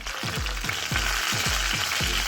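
Eggplant slices fry in hot oil in a pan with a loud, continuous close-up sizzle, while a regular series of low thumps repeats underneath about every third of a second.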